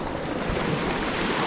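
At sea, water churns and splashes as a fish attacks, heard as a dense, continuous rush of surf-like noise with wind buffeting, loud and close, without any talking.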